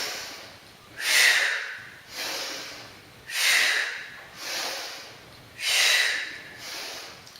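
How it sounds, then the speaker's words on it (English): Heavy exhalations come during an upper and lower back exercise, five forceful breaths pushed out in a steady rhythm, close and clear with no talking. "When you pull, you're going to breathe out."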